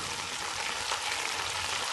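Finely chopped tomatoes sizzle in a pan with browned onions for sarson ka saag, a steady, even frying hiss that stays moderately loud throughout without talk.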